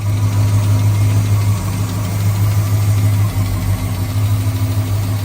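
A police-issue Holden HZ Kingswood's 5.0-litre 308 cubic inch V8 idles steadily with a low, throbbing rumble and a slight uneven lope, close and continuous with no voices.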